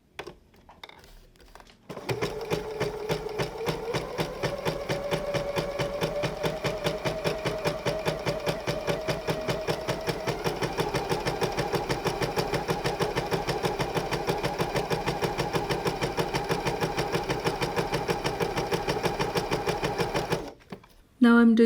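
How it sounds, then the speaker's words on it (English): A sewing machine fitted with a jersey needle runs a long continuous straight stitch, a loud, even motor hum with rapid rhythmic needle clatter, starting after a brief quiet moment and stopping abruptly near the end. "Now let me sew with the jersey needle."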